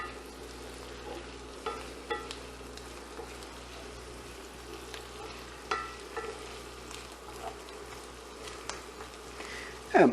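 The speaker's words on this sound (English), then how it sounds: "And you're going to start to let these start to caramelize a little bit. Get coated with all your butter." Pearl onions in butter give off a soft, steady sizzle in a pan on an induction burner, with occasional faint clinks and a sharper scrape at the very end.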